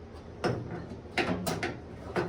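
A vent window dropped into the door of a 1973-1979 Ford pickup gives a few short metallic clunks and scraping knocks, close and moderately loud, in irregular bursts.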